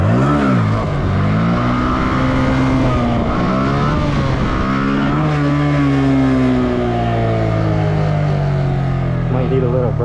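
Motorcycle engine revving in a parking lot during clutch work practice, loud and close, with rising and falling pitch through repeated throttle blips over the full ten seconds.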